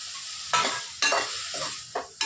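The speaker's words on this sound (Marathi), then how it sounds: "हे दोन्ही व्यवस्थित एकदम चांगले परतून घ्यायचे." Chopped tomatoes with salt are sautéed in a dry pan without oil, a soft sizzle broken by three or four distinct scraping stirs at an uneven pace, close and fairly quiet, with no voices.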